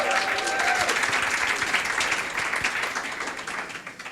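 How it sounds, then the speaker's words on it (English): An audience at a corporate keynote gives a big round of applause, many hands clapping in a thick, sustained wash that holds strong and then slowly thins toward the end. "Give her a big round of applause."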